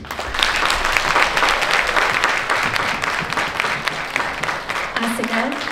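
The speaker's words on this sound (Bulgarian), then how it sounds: "Аплодисменти за всички, които са част от екипа на детската градина" Steady, dense applause fills a hall at a kindergarten celebration, continuous and fairly loud throughout, with some voices in the crowd underneath.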